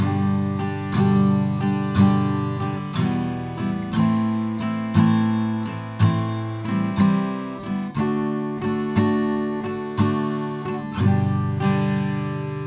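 Guitar strumming the verse chords of a song in a steady down-up rhythm, each strum crisp and bright, changing chords every couple of beats.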